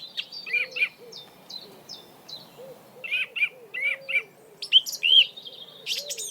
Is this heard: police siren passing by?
no